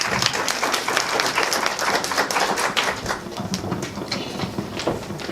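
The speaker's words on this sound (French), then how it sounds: "On l'applaudit, s'il vous plaît." An audience applauds at a Black History Month closing event, producing a sustained burst of many hands clapping at steady loudness, close and busy throughout, with no one speaking.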